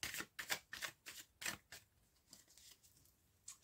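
Tarot cards being shuffled in a run of about eight crisp riffling bursts, fairly quiet and close, with a few shorter riffles trailing off near the end and no talking.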